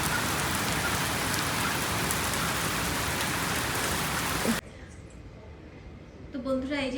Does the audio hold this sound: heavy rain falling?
yes